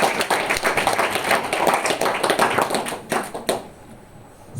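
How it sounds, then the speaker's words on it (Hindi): A burst of clapping and applause from a group, steady for a few seconds before fading out near the end. "सुरेश गणेश प्रसाद के लिए तालियां होनी चाहिए।"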